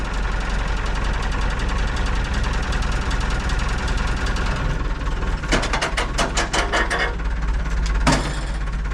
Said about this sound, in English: we got Dad on the forklift